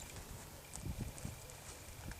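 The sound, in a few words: horse hooves taking short choppy steps while turning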